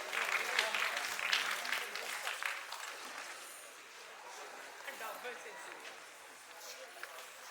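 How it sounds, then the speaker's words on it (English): An audience at a regional quiz final claps to welcome the guest of honor, loud at first and then thinning into scattered applause. "with a huge round of applause, please welcome our guest of honor"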